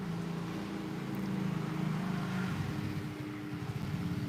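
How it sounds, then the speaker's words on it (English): A Lazada delivery motorbike approaches, its engine a faint, steady hum that swells and rumbles a little louder toward the end, heard from a distance outdoors. "this Lazada coming in on a motorbike"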